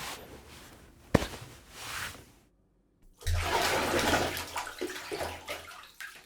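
Bathwater sloshes and splashes close by in two bursts around a short silent gap, a sharp knock near the start, then heavier churning as someone settles into the filled tub.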